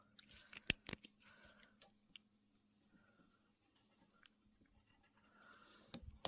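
A pencil writes down a measurement on solid oak window sill boards, giving a few sharp close scratches and strokes in short bursts between quiet gaps.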